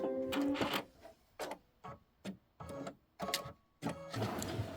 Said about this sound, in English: it's going to do the satin stitch on the leaves